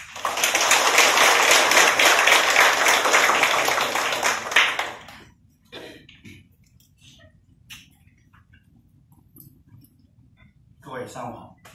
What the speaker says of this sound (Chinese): 接下来让我们以热烈的掌声欢迎穆老师。